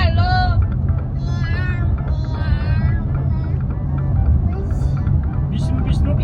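A human voice imitates a cat with a few short meows inside a moving car, heard over a constant low road rumble, with other faint voices nearby.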